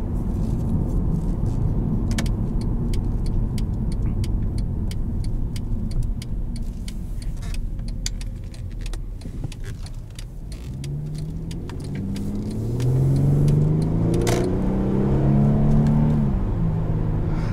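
A 2014 Mercedes-Benz C300 being driven, heard from inside the cabin as a steady low road and engine rumble that swells toward the end as the car accelerates.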